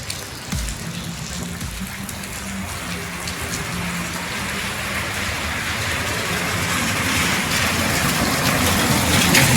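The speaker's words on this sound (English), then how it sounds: "I took a little bit of time to enjoy the serene, empty streets with the soothing noise of the rain" Rain falling on empty city streets at night, a steady hiss of drops on pavement that gradually swells louder, with a low rumble early on and no voices.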